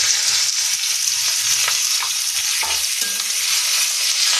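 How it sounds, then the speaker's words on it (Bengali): Oil sizzles and crackles loudly and steadily as whole cumin seeds and a bay leaf fry, with occasional soft stirring taps in the pan. "গোটা জিরে আর একটা তেজপাতা ফোড়নে দিয়ে দিলাম"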